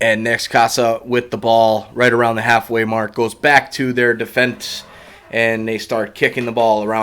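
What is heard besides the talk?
No everyday noise stands out behind the speech.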